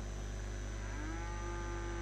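In a video game roleplay, a cow gives a single drawn-out low moo over a steady electronic hum.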